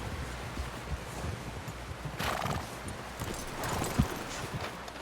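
Horse hooves clip-clop at a steady walking pace in Red Dead Redemption 2, with a horse neighing partway through and light rustling in the background.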